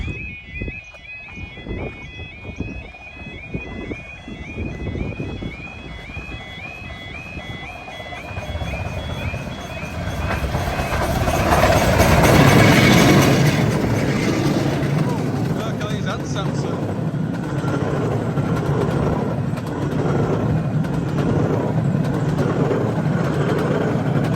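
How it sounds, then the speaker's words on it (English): A southbound steam train, double-headed, on the Romney, Hythe and Dymchurch Railway rumbles past close by, its noise swelling to a loud peak midway, with a warning bell ringing early on and people talking over it. "So this is a southbound train now, should be."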